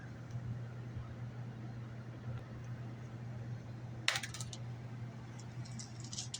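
A pair of six-sided scatter dice rolled during a Bolt Action World War II tabletop wargame, giving a single brief clatter partway through over a steady low room hum, with no voices.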